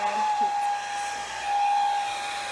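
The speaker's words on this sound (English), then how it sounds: "Ganun talaga ang blow dryer or hair dryer. Maingay talaga siya." Handheld hair dryer running steadily on its air and heat settings while drying hair, giving a loud, continuous whining hiss with a sustained high tone close to the mic, with no talking.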